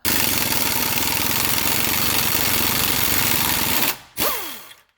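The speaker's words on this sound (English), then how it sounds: "Now get your 3/8 gun and your 17mm and fire all these nuts and bolts off." 3/8 impact gun zipping nuts and bolts off a 2013 Hyundai Santa Fe 2.0 Turbo during lower ball joint replacement, one continuous loud rattling hammering burst, then a short break and a brief final spin-down, up close.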